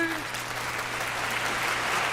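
Canned applause sound effect played on a talk radio show, a steady wash of clapping that sits at a constant level throughout, with a faint hum underneath.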